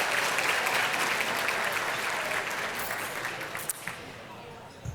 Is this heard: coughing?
no